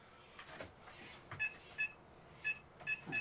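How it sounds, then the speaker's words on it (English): An office machine that is out of its paper roll emits a series of short, sharp electronic beeps, faint but distinct, sounding in an uneven rhythm after some soft handling noises. "it makes a beep noise"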